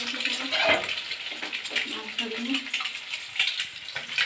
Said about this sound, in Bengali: ডিমগুলো ফটাম ফটাম করে তেল ফুটছে